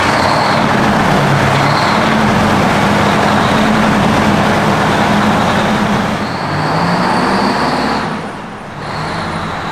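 A Detroit diesel engine runs inside a 1989 Oshkosh T-2500 6x6 aircraft fire truck. It gives a loud, steady idling roar with a low rumble, dips briefly near the end and then picks up again.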